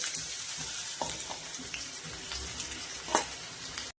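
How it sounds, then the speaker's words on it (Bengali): Finely chopped onion frying in hot oil, a continuous close crackling sizzle with stirring scrapes and a sharper clatter near the end, heard alone without speech. "ওই তেলেই আমি কিছুটা পেঁয়াজ কুচনো ভেজে নেব, ছোট ছোট করে কাটা পেঁয়াজ।"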